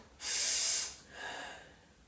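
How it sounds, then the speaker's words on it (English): A person breathes forcefully through the nose during a breathing exercise for circulation and blood pressure: one loud, sharp nasal inhale or exhale, then a second, softer breath, each close and alone. "Nasal breathing, this is the last round."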